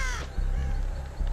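A crow in the video game Dead by Daylight gives a single short, harsh caw at the very start, followed by a low rumbling game ambience.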